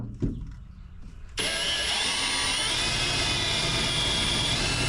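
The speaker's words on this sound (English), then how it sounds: "I've got a hole saw here, and I'm just going to drill a series of 3 holes here" A hole saw bores into a pickup truck bed, cutting in abruptly after a quiet start and holding a loud, steady, close grinding whir to the end.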